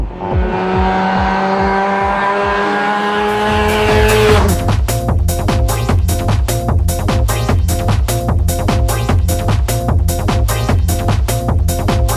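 A 650 bhp automatic car drives hard with tires squealing loudly, first a sustained rising engine and squeal tone, then a rapid, steady pulsing roar that continues to the end.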